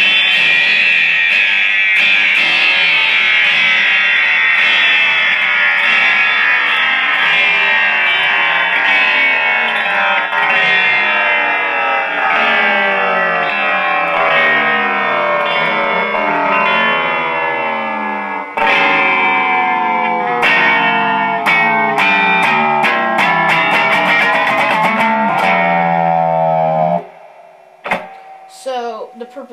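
A Moog Moogerfooger MF-102 ring modulator, its LFO sweeping the carrier frequency, turns the input into a dense, loud metallic drone with sideband tones gliding steadily downward, then breaking into stuttering, pulsing fragments before cutting off.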